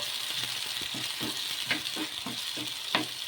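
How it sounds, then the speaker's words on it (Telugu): Blended tomato paste fries with onions in a pan while a spoon stirs it, giving a steady sizzle broken by a quick run of rhythmic scraping strokes and a couple of sharper clinks, close and alone. "వేసుకొని ఒకసారి బాగా కలిపేసుకుందాము."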